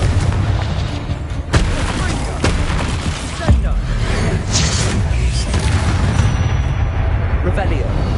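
Booming spell explosions from the Confringo blasting curse in Hogwarts Legacy, several sharp blasts over a dense, loud rumble of game combat, with a voice calling out spell names.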